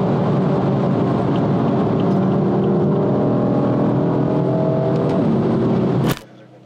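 A Mercedes C63 engine roars loud and close, rising through revs with audible gear shifts before cutting off abruptly near the end.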